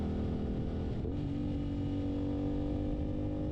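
A Suzuki GSX-8R motorcycle cruising at high RPM, a steady loud engine drone that holds constant throughout with a brief dip in pitch near the start.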